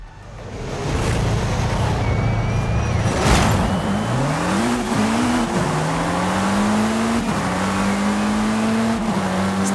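Race cars including a GT3, an Abarth and a Gallardo launch off the start line in Forza Horizon 5, engines revving hard and climbing through gear changes in a continuous loud roar.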